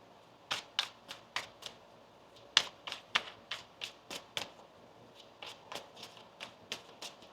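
A tarot card deck is shuffled in repeated quick riffling bursts, about a dozen crisp snaps spread at an irregular pace, close and fairly quiet with no talking.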